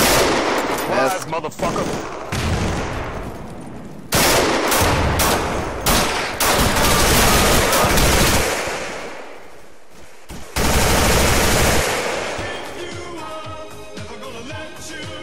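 Dense bursts of automatic gunfire and single shots in the shooter game Insurgency, loud and close, with brief pauses between volleys and a voice speaking over the firing.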